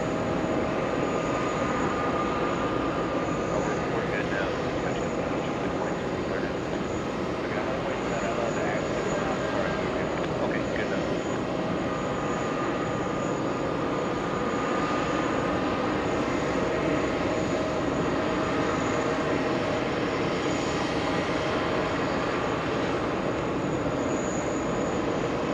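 An Emirates airliner in new livery passes close by at JFK airport, its engines making a continuous broad roar that holds steady for the whole stretch.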